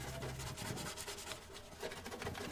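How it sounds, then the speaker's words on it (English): A plastic brush scrubs grease off a stainless steel stove coated in degreaser, quiet rasping strokes repeating in a quick, uneven rhythm close by. "We're gonna be using it to help us remove some of the stains in the grease attached to the stainless steel."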